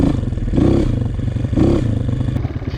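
A Honda CRF230 dirt bike engine runs rich with the choke half off, a loud close steady idle-to-mid rumble with two brief rising revs and some mechanical clatter.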